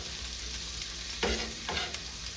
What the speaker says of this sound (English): Now that the onion is cooking there a little bit